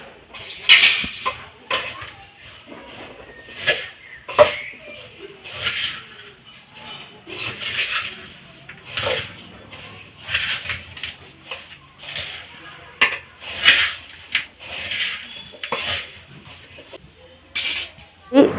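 Garlic-spiced puffed rice is stirred with roasted gram flour in a bowl, making repeated close scraping and rustling strokes in an uneven rhythm, with a voice talking at times.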